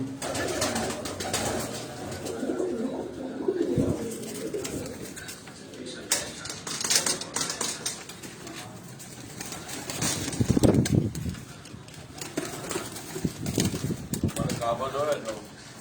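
Racing pigeons coo on a rooftop, soft repeated throaty calls near and far, under someone talking and ambient outdoor noise.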